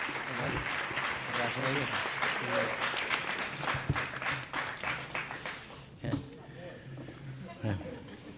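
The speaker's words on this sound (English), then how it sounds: "It's good to hear them cheer each other on" An audience at a 2004 senior awards ceremony applauds an award recipient, with a steady burst of clapping that thins out toward the end while a voice speaks over it.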